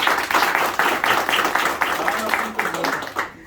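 Sustained clapping from a gathered group at an office event, dense and steady throughout and close by, with a few voices mixed in.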